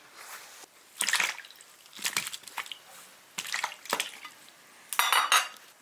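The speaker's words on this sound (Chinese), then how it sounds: "羊排冷水下锅" Lamb ribs dropped into an iron pot of cold water, heard as several separate bursts of clattering and splashing with short quiet gaps between them and no talking.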